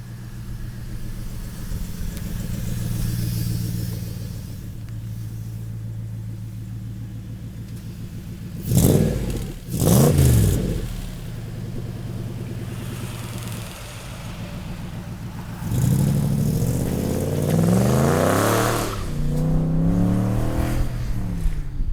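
A Factory Five 1965 Shelby Cobra replica with a Coyote engine and automatic transmission idles with a deep, steady rumble. Two sharp, loud revs break in near the middle, then it climbs into a longer, throaty acceleration.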